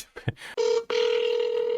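A phone call is placed: a few short dialing tones, then a steady electronic ringback tone that holds continuously, loud and close, with no voices.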